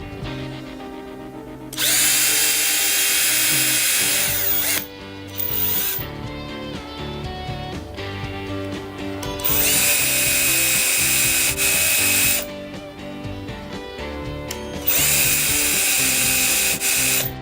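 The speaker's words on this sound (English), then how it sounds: "I'm going to take my drill and I'm just going to make a hole" A power drill drilling a hole in wood whirs in several loud bursts, revving up and cutting out with short pauses between, the motor whine steady during each run.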